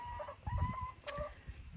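Farm chickens clucking in short, close bursts, with a couple of clear tonal calls rising above soft scratchy background noise; no one speaks.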